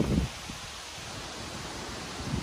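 Strong storm wind during heavy rain roars as a steady, close broadband rush, with a brief louder gust or thump at the start.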